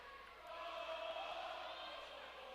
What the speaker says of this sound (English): A little bit of noise from the crowd.